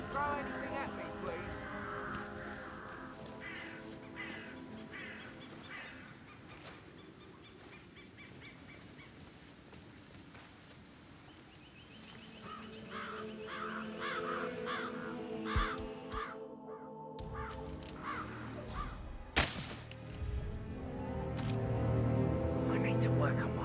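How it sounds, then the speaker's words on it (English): Crows cawing in the Hitman 3 video game, a run of repeated harsh caws at moderate level over game ambience and clicks, with a voice talking over part of the sound. "I'll never get rid of those stupid birds."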